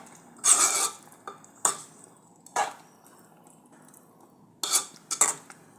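A spoon stirring mature coconut pieces into a vegetable in a metal pot, several separate scraping, clinking strokes with quiet pauses between them, close and alone.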